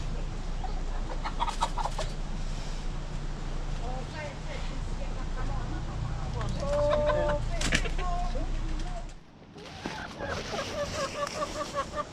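Chickens cluck and murmur close by in a steady chatter, with occasional louder squawks over a low background rumble.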